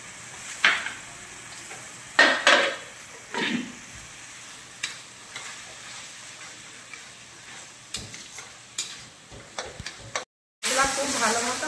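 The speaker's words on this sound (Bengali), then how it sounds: "এবার অল্প জল দিয়ে মশলাটা ভালো মতো কষিয়ে নেব।" Chopped tomato and masala sauté with a little water alongside fried potato and yam, soft intermittent sizzling broken by several loud spatula clanks and scrapes on the pan, with a brief sharp burst near the end.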